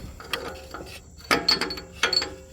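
A socket wrench ratchets in short bursts while working at the O2 sensor of a 2005 Dodge Dakota 4.7L V8, three quick metallic clicking runs close by, separated by pauses.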